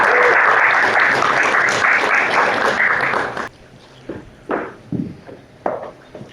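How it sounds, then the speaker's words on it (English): A conference audience gives a round of applause after a talk on basic income in Europe: dense, loud clapping for about three seconds, then it cuts off abruptly, leaving a quieter stretch with a few scattered thumps and footsteps. "Let's give a round of applause to Kim."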